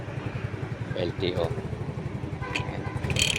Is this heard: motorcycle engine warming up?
yes